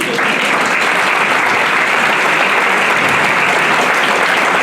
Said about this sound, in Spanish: Tenían que ser mujeres, un aplauso para ellas.